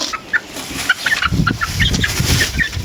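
Two-month-old chicks of a light breed, including a young cockerel, cluck and peep in a steady scatter of short chirps close by, with rustling underneath and no talk.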